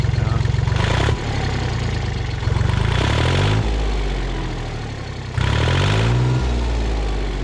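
A four-cylinder engine resembling a mini truck runs close by, idling roughly with a low throb, blipped up in brief revs several times before dropping back to idle, with no voices.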